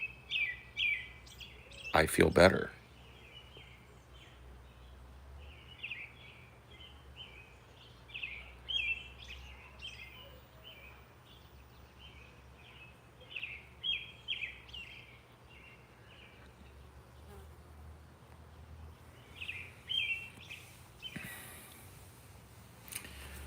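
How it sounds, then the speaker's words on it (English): Birds chirp and sing outdoors in scattered bursts, fairly close, with a brief loud knock early on and a short spoken remark. "if I just spend some time looking and listening to the birds,"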